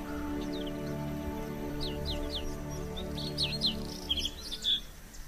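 A male bluethroat sings from extensive reed beds, with repeated short, high chirping and twittering phrases that grow louder toward the end over a faint steady background hum.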